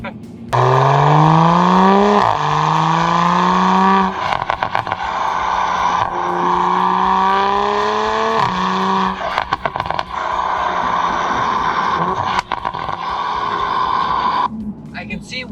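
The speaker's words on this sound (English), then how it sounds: "Getting some sound bites from the exhaust." A Toyota Supra A90's loud exhaust revs repeatedly through rising gear pulls, growling and popping, with a brief voice heard amid the roar.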